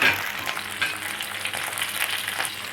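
Onions sauté in a pan with salt and curry leaves for a chicken pineapple masala curry, a steady close sizzle and crackle with light stirring.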